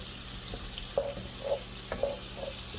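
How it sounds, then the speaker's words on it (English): Vegetables and garlic paste frying in a pan for Southern fried cabbage, a steady broadband sizzle with a few soft stirring scrapes and small clinks, close and continuous, no talking. "you're just going to fry them until they get a little soft, not too soft"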